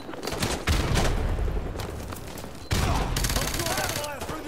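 Heavy automatic gunfire in a Call of Duty: Modern Warfare 2 campaign battle, loud overlapping bursts with a sharp fresh volley midway, mixed with shouted voices and distant booms.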